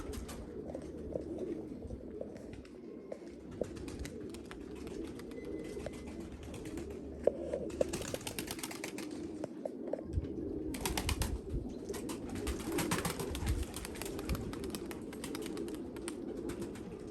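Soft, low cooing from pigeons continues over a steady background rumble, with occasional sharp clicks and flutters throughout.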